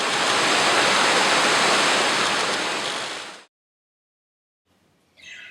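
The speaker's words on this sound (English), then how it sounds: "Pystyll Rhaedar, the highest waterfall in Britain" Pystyll Rhaedar, Britain's highest waterfall in Wales, gives off a loud, steady broadband roar that cuts off abruptly, followed by silence and a faint return of sound.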